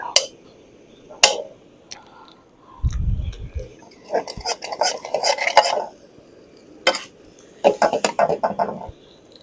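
Utensils clink and scrape against a frying pan as butter is stirred in for shrimp fried rice, with intermittent clattering bursts, brief sizzling and a low thump, close and moderately loud.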